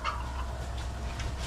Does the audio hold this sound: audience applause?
no